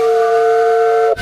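A steam whistle on a narrowboat's boiler, sounded by pulling a chain, gives a loud, pure, steady tone for about a second before cutting off sharply into a brief hiss.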